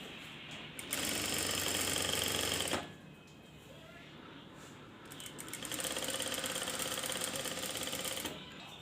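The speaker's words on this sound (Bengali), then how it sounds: "প্রথমে আমরা কাঁধটা সেলাই করে নেব।" A sewing machine stitches the shoulder seam of a blouse, running in a steady whirring burst for about two seconds, pausing, then running again for nearly three more seconds at moderate loudness.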